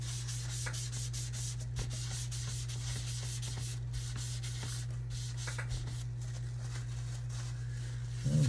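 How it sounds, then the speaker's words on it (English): Finish being rubbed by hand into a Jem-style kit guitar body and the excess wiped off: a close, steady, continuous cloth-on-wood rubbing and swishing with a low electrical hum beneath it. "you just massage it in and then wipe off the excess"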